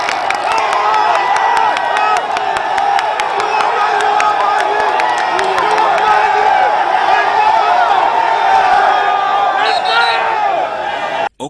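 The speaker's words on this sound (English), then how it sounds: "he was cheered by the crowds near Makerere Kavule headquarters, waving as the convoy made its way out" A large crowd cheers, whoops and claps continuously as a political convoy pulls away from NUP headquarters near Makerere Kavule, a dense, loud roar of voices throughout.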